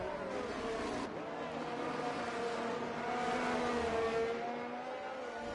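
Formula 1 cars in Brazil, a Ferrari chasing a Red Bull, heard as a sustained high engine whine with rising and falling pitch as the two run close together, fairly loud and continuous.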